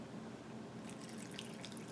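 Water pours softly into a homemade playdough mixture in a bowl, giving a faint, continuous trickle with a few light splashes and drips over about two seconds, and no voices.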